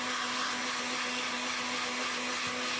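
Hair dryer blowing on a freshly painted ceramic piece, a steady, loud, close whooshing hum with a constant motor tone that runs unbroken and alone.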